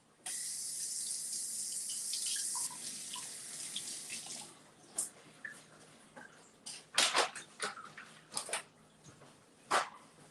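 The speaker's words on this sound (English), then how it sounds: "I rinse my fingers off." Kitchen tap running into a sink as fingers are rinsed, a steady hiss of water for a few seconds, then stopping, followed by scattered clatter and a few sharp knocks; a dog barks faintly.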